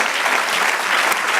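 Steady congregation applause fills a church service, dense and continuous clapping close by with no voices on top.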